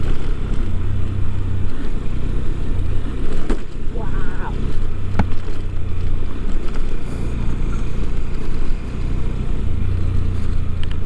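Honda Hornet 2.0 motorcycle climbing a hill road in Bandarban, its engine a steady, loud drone with heavy wind rumble throughout the ride.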